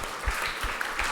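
Applause from a church congregation during announcements after a Sunday service, a short burst of steady clapping filling the hall, with muffled low thumps underneath.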